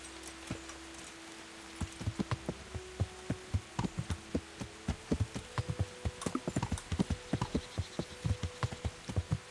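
Horse hooves clip-clop as a rider travels in Kingdom Come: Deliverance. After a quiet start, a steady, evenly paced trot of crisp hoof strikes runs continuously, close and clear over a faint ambient hum.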